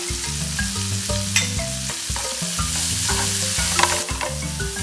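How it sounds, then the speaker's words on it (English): Finely shredded leeks sauté in a pan with a steady sizzle and occasional stirring scrapes, under background music with sustained tones throughout. "As the leeks saute"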